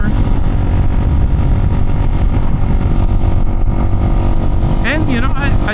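Chinese motorcycle ridden in road traffic, a steady engine drone with wind rumble running throughout, while someone talks over it.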